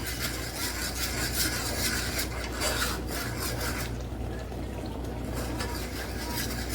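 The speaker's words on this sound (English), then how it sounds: "A little bit of milk and stir." Milk being stirred into Alfredo sauce in a pan, with a continuous rasping scrape of a utensil against the pan bottom over a low steady hiss, close and fairly loud.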